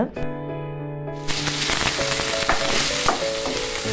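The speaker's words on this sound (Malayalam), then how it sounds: "ഇതിലേക്ക് ചെറുതാക്കി കട്ട് ചെയ്ത് വെച്ചിട്ടുള്ള സവാള ചേർത്ത് കൊടുക്കുന്നുണ്ട്" Chopped onions hit hot oil in a pan for a masala, bursting into a loud, steady sizzle after a brief quiet start, with stirring clatter through the frying.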